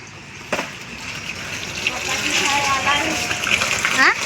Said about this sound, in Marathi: हे बघ पाणी भरायला लागलेलं आहे नळाला